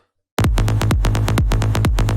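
Loud electronic bass notes play alone in a swung groove, alternating slightly long and short gaps between hits, each note with a sharp attack and rapid decay.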